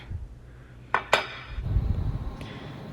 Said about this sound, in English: Give it a little whisk together.